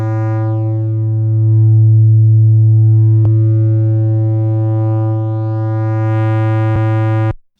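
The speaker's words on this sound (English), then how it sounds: "the magnetic or the tape saturation or distortion will tend to create more odd numbered harmonics" A steady, buzzy tone rich in odd harmonics from tape saturation distortion in Logic Pro's Chromaglow holds for several seconds, its brightness swelling and fading, with two faint clicks before it cuts off.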